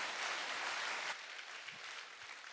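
A church congregation applauds to welcome worship singers coming forward, a steady wash of many hands clapping at moderate distance that thins out partway through into scattered claps.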